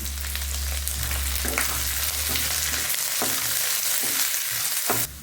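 Cinnamon, cloves, green chili and ginger fry with onions in a pan for mutton keema balls, a steady close sizzle broken by scraping stirs and occasional clinks of the utensil.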